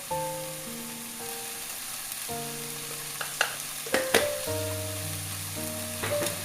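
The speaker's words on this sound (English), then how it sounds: "Stir them well." Bottle gourd gravy with tomato being stirred in a pan, a soft continuous sizzle of frying under a few sharp scrapes and clinks of the spoon against the pan, faint and close.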